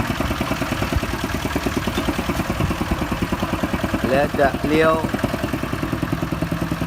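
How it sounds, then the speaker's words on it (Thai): A homemade Thai farm vehicle (rot e-kong) rolls along a village track, its single engine chugging in a fast, even, close beat while someone talks over it. "ต้องขับเป็นจริงๆนะครับ รถอีโกงนี่ครับผม"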